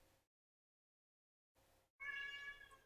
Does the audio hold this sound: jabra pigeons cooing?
no